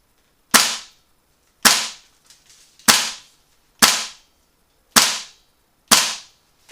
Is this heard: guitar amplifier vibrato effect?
no